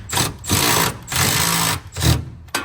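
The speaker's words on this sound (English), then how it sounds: "I get to use my new electric ratchet." A Milwaukee cordless electric ratchet tightens bolts while a Ready Lift air bag kit goes onto a 2023-2024 Ford F250 frame, giving close, loud whirring bursts in quick succession separated by short pauses.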